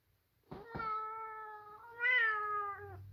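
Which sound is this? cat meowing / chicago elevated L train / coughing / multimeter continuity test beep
cat meowing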